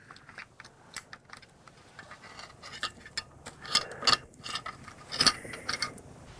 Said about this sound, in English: it's got a little button down here that I can rewind the spool of film